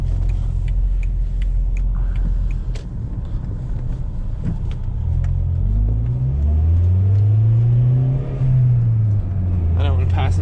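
A turbocharged B5 Audi A4 engine rumbles and revs while driving on a freezing day, a loud, steady low drone with rising pitch sweeps as it accelerates, with someone talking over it.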